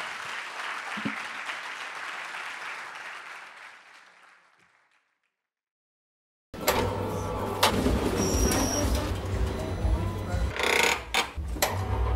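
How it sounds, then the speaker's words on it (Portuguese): Audience applause in a hall after a design-communication event talk in Caldas da Rainha, a dense burst of clapping that fades out to silence, followed by unrelated louder room noise. "é melhor dar a salva palmas agora então"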